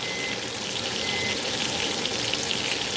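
Bacon frying in a pan at a Southern Sunday breakfast, a dense, steady sizzle and crackle close by, continuous and without talk.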